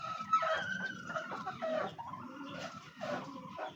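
A rooster and hens cluck and squawk close by in a farmyard, a busy, uneven run of throaty calls with no talking.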